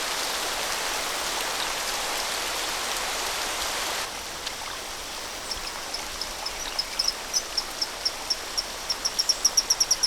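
A steady rush of falling water from a rainforest waterfall fills the first few seconds, loud and close. It then drops lower as a small rock frog's quick, regular, high chirping calls come in and grow stronger.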